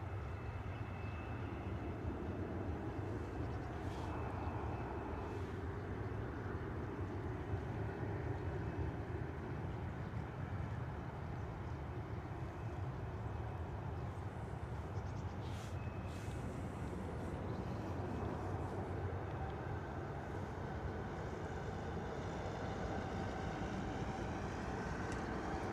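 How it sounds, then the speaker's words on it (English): Boeing 737 jet at London Stansted Airport, a steady, distant engine roar over the airfield, faint and continuous with a slight rising whine toward the end. "pretty loud 737 over there in the far corner"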